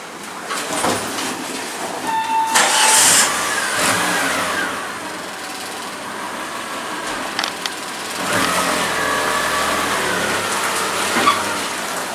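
A replacement engine in a Mitsubishi Chariot runs unevenly, loud and close, with revving surges and a rougher stretch partway through; no one talks over it.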